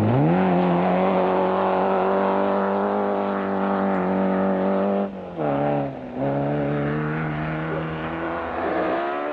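A Peugeot 205 rally car runs on a stage of the 1997 Rally Alno, its engine loud and close, holding a high, steady rev before dipping twice on gear changes and then pulling away again.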